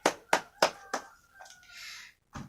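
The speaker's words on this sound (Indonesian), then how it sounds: "Tepuk tangan semuanya." A few sharp, evenly spaced hand claps in a classroom, four distinct claps close to the mic, followed by a softer rustle and one more clap.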